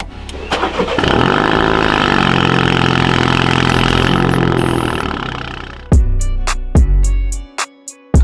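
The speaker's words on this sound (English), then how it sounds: "This car is so loud." A MINI F56 John Cooper Works with its exhaust resonator removed idles loudly and close by for several seconds, then the engine cuts off with a few sharp clunks and pops.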